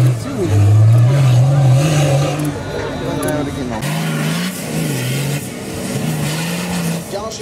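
A short-wheelbase Nissan Patrol off-roader runs on a dirt competition track, its engine loudly revving and rising and falling in pitch across several gear changes, with commentators talking over it.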